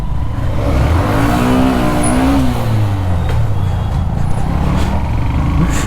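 A Hero Xtreme 125R motorcycle engine labors and revs steadily while climbing a steep uphill road, its rising and falling drone loud and close over constant wind rumble.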